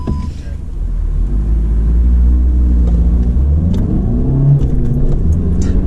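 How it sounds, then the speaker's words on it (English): SEAT Ateca diesel, fitted with a tuning box, accelerating hard with gear shifts; a loud, close engine drone rises and falls as gears change, with brief speech. "Diesel gear shifts."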